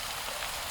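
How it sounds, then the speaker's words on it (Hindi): Rain falls steadily in a brief burst of soft, even hiss with no distinct drops, a continuous wash of patter used as an effect in a Hindi mystery story. "बारिश अभी भी जारी थी।"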